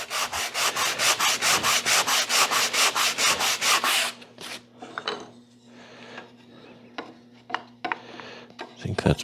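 A belt-sander belt wrapped around a block rasps rhythmically over wood for about four seconds, close and strong, then stops. Quieter handling knocks and scrapes follow.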